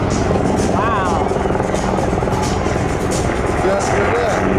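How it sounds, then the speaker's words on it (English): An HH-60G Pave Hawk helicopter flies alone at an airshow, its loud continuous rotor and engine roar filling the air while a person talks over it. "for today it's just this single HH-60 Pave helicopter"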